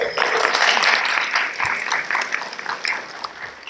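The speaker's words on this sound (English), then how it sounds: "Give yourselves a round of applause." Audience at a university honors awards night applauds the honorees, a sustained wash of clapping that stays fairly loud before gradually thinning toward the end.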